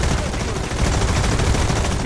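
Rapid bursts of 20mm cannon fire from a Leopard 2K tank in War Thunder crackle loudly and densely, a continuous fusillade of close, harsh shots with no pauses.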